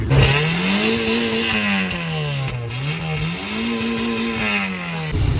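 A car engine runs close by for a sound check, its pitch rising and falling in two slow revving swells over a steady, loud mechanical drone.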